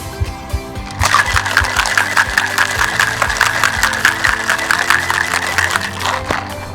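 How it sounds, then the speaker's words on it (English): A cocktail tin filled with ice and a limeade drink being shaken hard, a fast regular rattling rhythm that starts abruptly and carries on loud and close for several seconds, with some music underneath. "We're going to put it into our tin and close it off. Alright, and we shake."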